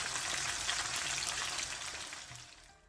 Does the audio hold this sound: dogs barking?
no